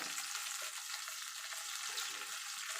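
Ground spices such as cumin frying in a pan with ginger and a splash of water, a steady close hiss and sizzle with faint stirring and no talk.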